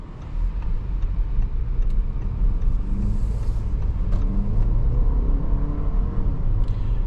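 Cabin drone of a 2025 Audi Q5 with a 2-liter turbo engine and quattro all-wheel drive on the move, a steady low rumble and road noise holding even and continuous throughout, with no voices.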